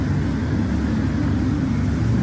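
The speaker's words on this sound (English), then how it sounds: "What's more, you can hear the car noise from this Zoom video." Steady low rumble of car noise captured in a Zoom video recording, continuous and fairly loud with no talk over it.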